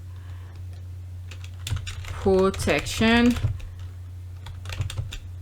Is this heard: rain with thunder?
no